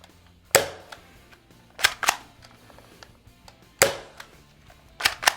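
A Dart Zone foam dart blaster fires Worker Gen 3 darts through a chronograph indoors: five sharp, loud, separate shots with irregular gaps, each ending quickly, and faint mechanical clicks between them.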